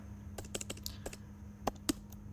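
Keys clatter on a computer keyboard in short irregular bursts of quiet, crisp clicks, a couple of sharper taps standing out, with a faint steady hum underneath.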